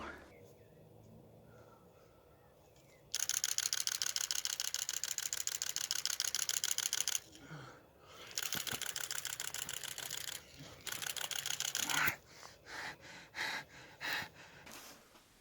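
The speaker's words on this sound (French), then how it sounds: "Tu peux laisser ton doigt appuyé sur le déclencheur et ça prendra énormément de photos." A digital camera fires its shutter in continuous bursts, rapid evenly spaced clicks running for several seconds at a time, broken by short pauses and some breathing.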